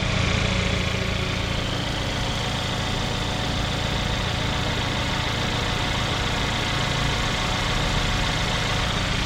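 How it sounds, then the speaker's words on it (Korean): A 2019 Kia Stinger with a 2.0 direct-injection engine idling right after starting, a steady, even engine hum heard up close that runs unbroken throughout with no speech. "시동을 걸고"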